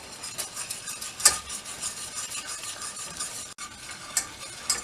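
Garlic sautés in butter in a pan over gentle heat, with a soft steady sizzle and crackle plus occasional scrapes and clicks of a utensil stirring, close up and without talk.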